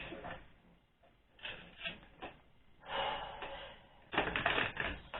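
Tarot cards are shuffled by hand in bursts of rapid, papery riffling and soft slaps, with quieter pauses between and a louder flurry toward the end, no talking over it.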